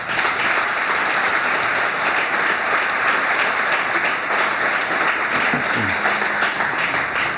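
Loud, sustained applause from a large audience at a school district State of Our Schools event, a dense steady roar of clapping that continues without a break.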